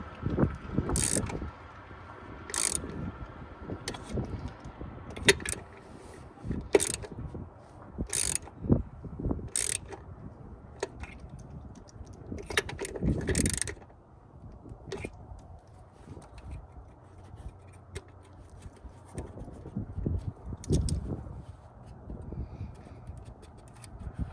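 Hand ratchet tightening a bolt on a 1999 Jeep Cherokee XJ during a sensor replacement, with bursts of sharp clicking strokes in irregular runs, up close, alongside some clanks of handling.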